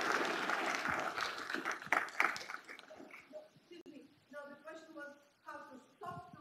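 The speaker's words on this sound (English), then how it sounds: "And a round of applause for Alexei Kapustin, who is our language tut" Lecture audience applauds, a burst of many hands clapping that dies away after about three seconds, followed by someone speaking over quieter room sound.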